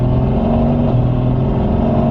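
A Mercedes-AMG with a damaged bodykit and freshly installed KW coilovers accelerates up to speed, its mid-pitched engine droning steadily and close throughout, with no one speaking.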